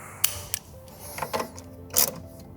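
Wrench clicking on a battery terminal clamp of a Toyota 4Runner in a dual battery setup: a few sharp ratcheting clicks and short mechanical bursts, close and fairly clear with no talk.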